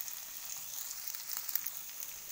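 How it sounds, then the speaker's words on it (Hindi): Ginger drops into hot oil of a browned cumin tempering, a steady faint sizzle and crackle of frying close by, with no talking. "इसमें डाल देते हैं अदरक।"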